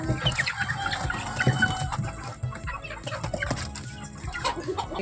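Several native country chickens clucking nearby in a busy farmyard, overlapping calls and short squawks over a rustling background.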